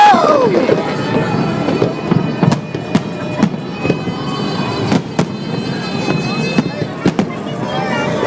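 New Year fireworks bursting repeatedly, sharp cracks and booms at irregular intervals over a continuous crackling roar, loud and fairly close, with people's voices in the background.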